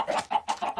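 Chickens cluck in a Minecraft-style survival game, several short repeated clucking bursts in an uneven rhythm, close and moderately loud with no talking.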